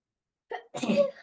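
A single close sneeze in a classroom, with a short sharp intake followed by a louder explosive burst, then quiet.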